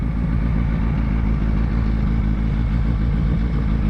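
A Suzuki Hayabusa Gen 1 K7 motorcycle idles close by, giving a loud, steady, low rumble with an even mechanical throb and no change in revs, with no voices.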